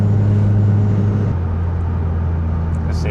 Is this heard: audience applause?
no